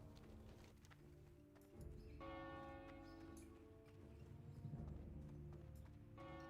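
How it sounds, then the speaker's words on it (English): Church bells toll in Stormwind, a city in World of Warcraft, ringing out in layered, sustained chimes over the clip-clop of hooves and faint ambient game sounds. "Oh, you hear those bells."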